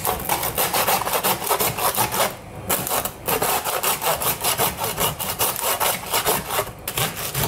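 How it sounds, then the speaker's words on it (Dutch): A butcher's hand saw cuts through pork belly at a slanted angle, the steady back-and-forth rasp of the blade close and loud, with two short pauses between strokes. "Nou is de bedoeling dat je dus zo schuin gaat zagen."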